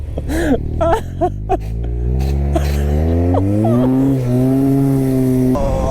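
A Yamaha TMAX turbo scooter of about 100 hp accelerating hard with its rear wheel spinning, a loud rising engine whine climbing in pitch, with a short excited voice near the start.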